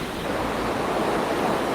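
A powerful underground river rushes through a large cave, giving a steady, dense roar of water that holds evenly for the whole moment without any voices.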